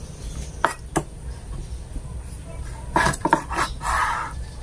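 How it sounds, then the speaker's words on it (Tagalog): A knife slices through chicken pieces on a cutting board for buttered chicken, giving a few sharp separate cuts and then a quick cluster of chops, close and clear over a steady background hum. "Ayan, hiwain pa uli natin."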